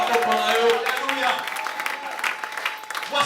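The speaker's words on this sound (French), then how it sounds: "Je vais écouter encore des acclamations" A church congregation applauds and cries out in acclamation during a worship service, clapping mixed with shouting voices, loud at first and then thinning.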